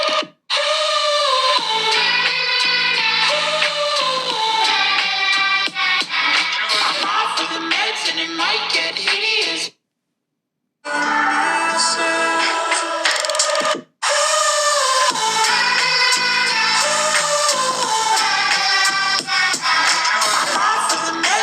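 A sample music track plays through the loudspeakers of a Redmagic Astra gaming tablet, full and busy with beats and melody. It runs continuously apart from two short silent gaps, with no speech.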